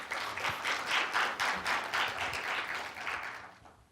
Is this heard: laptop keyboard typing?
no